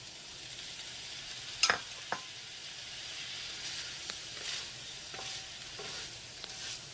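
Tomatoes fry in a pan for a chile rellenos casserole, with a steady low sizzle and a few sharp clicks and scrapes as a utensil stirs them close by.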